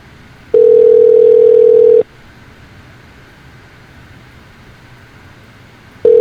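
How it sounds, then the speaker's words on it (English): A telephone ringback tone plays while a call connects to a rape treatment center hotline. Two long steady tone bursts are separated by a few seconds of quiet line hiss. "Please hold while we connect your call to the Rape Treatment Center nearest you"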